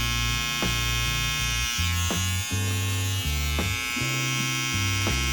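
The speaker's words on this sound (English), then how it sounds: "Elevating my trimmer up to get a thinner line" An electric hair trimmer buzzes steadily while cutting a thin line into hair at a barber's chair, a close, continuous hum with faint periodic clicks as the blade touches the head.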